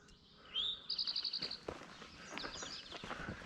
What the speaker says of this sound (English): Ooh, look at that bird. Bluebird.